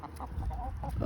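Several backyard hens, including a Rhode Island Red and a Polish blend, cluck in short repeated bursts close by, with a steady murmur of the flock behind them.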